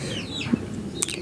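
Broiler chickens being fed flour by hand, giving a brief, faint cluck and a couple of short, sharp calls close by.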